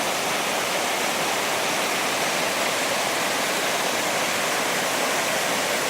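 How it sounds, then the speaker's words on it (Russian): Orekhovsky waterfall near Sochi pours in a loud, unbroken roar of rushing water, dense and steady throughout with no voices. "Вот это начало водопада Ореховского."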